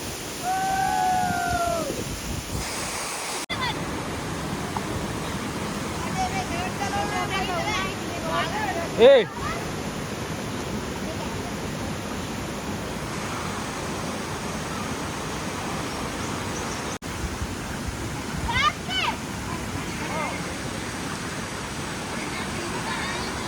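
A waterfall at Deniyaya, Sri Lanka, rushes with a steady broadband roar while people bathe in the water and voices talk and call over it.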